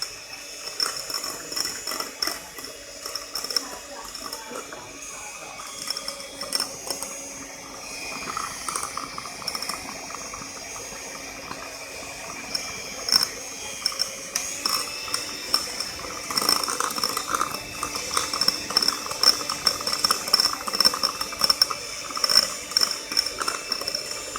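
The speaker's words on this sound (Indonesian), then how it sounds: "Kalau pakai mixer tuh lebih cepet guys, dengan dikocok tuh capek banget, harus benar-benar kental." An electric hand mixer whips dalgona coffee in a bowl, giving a continuous high-pitched whir with uneven rattling and clicking as the beaters hit the sides, growing busier toward the end.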